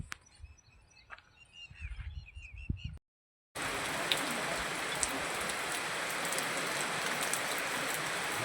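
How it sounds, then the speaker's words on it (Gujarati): Steady rain pours down outdoors, a dense even hiss of drops on surfaces that starts abruptly after a brief silence and continues loud to the end, with a few faint bird calls earlier on. "તમને હું વરસાદ બતાવું છું અને વરસાદ અત્યારે રહી ગયો છે."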